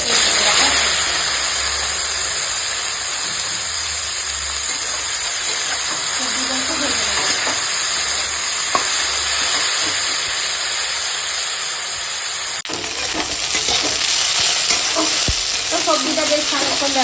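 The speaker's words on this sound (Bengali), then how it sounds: "ওই তেলেতে দিয়ে দেবো শুকনো লঙ্কা তেজপাতা আর পাঁচ ফোড়ন ফোড়নটা একটু আমি ভেজে নেবো" Dried red chillies, bay leaves and panch phoron crackle and sizzle in hot oil, a steady close hiss with occasional stirring, and a person talks over it throughout.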